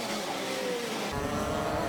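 Racing karts with TKM and Rotax engines compete in a Formula Libre final at the Shenington SuperPrix, their high engine whine drifting in pitch as they pass, with a louder, rougher drone coming in halfway through.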